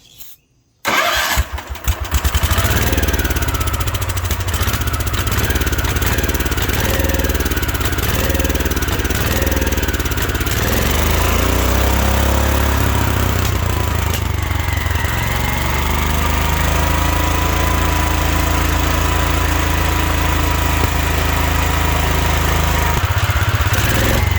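A 1972 Wheel Horse Raider 12 lawn tractor engine, revived after fifteen years sitting in a shed, catches after a brief sputter and then runs loud and rough at a steady, unbroken pace until the end.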